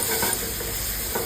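Ingredients sautéing and being stirred in a pan for an egg Florentine sandwich make a brief, dense sizzle with soft scraping, close and alone.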